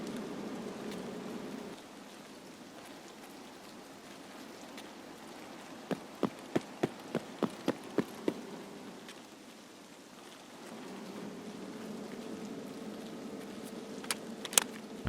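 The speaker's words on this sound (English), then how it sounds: "The rain is a little bit rough." Soft, steady rain hiss in a video game with a low hum underneath, broken midway by a quick run of sharp mechanical clicks, then a few more clicks near the end.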